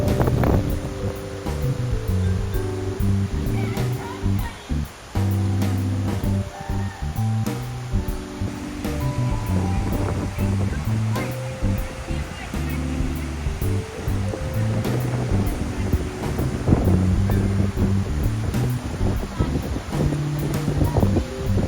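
Steady roar of a 30-foot waterfall beside a cider mill in Burrville near Watertown, New York, a continuous broadband rush of falling water with low rumble and wind buffeting, filling the scene throughout.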